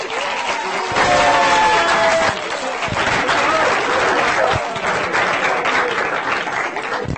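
A studio audience of university students in the Old City of Jerusalem gives steady, dense applause throughout, with a scattering of crowd noise in the room.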